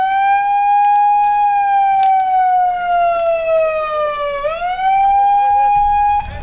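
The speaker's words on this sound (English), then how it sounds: "I will sound the siren." A loud wailing siren sounded at a nuclear disarmament event, one long steady electronic tone that slowly dips and then rises again, close and dominant with no talking over it.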